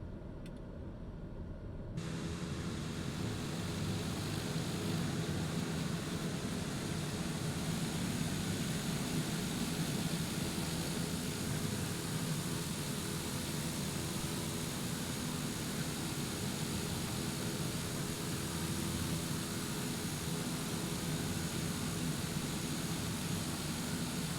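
A Daher TBM 930 turboprop engine sits at flight idle. After a short quiet opening, a steady, unbroken broadband roar with a low hum sets in, holding level and even for over twenty seconds.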